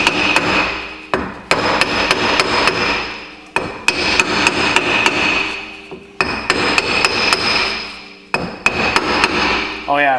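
Hammer tapping around a rear brake drum on a car, loud ringing metallic blows struck in quick bursts of several taps, separated by short pauses, close up with no talk.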